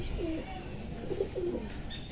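Pigeons in a loft give soft, low coos in a few short bursts, faint and fairly close, with a quiet background hiss and no talk.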